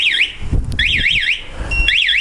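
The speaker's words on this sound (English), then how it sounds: "Alarm goes off." A Spy 5000m motorcycle alarm fitted to a 2008 Honda Goldwing GL1800 sounds loudly, with a rising and falling warbling siren that breaks off briefly mid-way and then resumes, heard close up.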